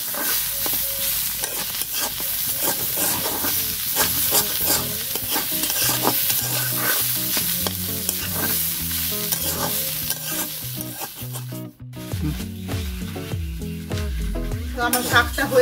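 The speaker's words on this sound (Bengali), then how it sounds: "তো আমার শাকটা হয়ে গেছে ভাজা" Leafy greens stir-fried in a karahi, a loud crackling sizzle with repeated spatula scrapes and knocks against the pan, close up and uninterrupted by speech.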